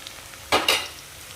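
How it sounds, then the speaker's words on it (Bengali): Potatoes fry in a pan over a low flame: a faint background hiss, then two quick close scraping stirs about a second apart. "ততক্ষণ আমি গ্যাসটাকে সিম করে আলুগুলো ভাজতে থাকবো"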